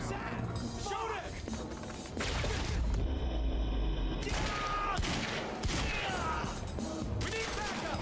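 Dense gunfire erupts during a firefight in the video game Quantum Break, with sustained bursts of rapid shots and impacts layered over shouting voices and a continuous loud background.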